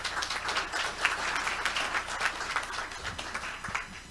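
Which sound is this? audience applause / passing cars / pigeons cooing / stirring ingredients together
audience applause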